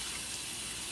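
Water runs steadily from a kitchen tap into a sink while dishes are washed, a close, continuous broadband rush with no voices.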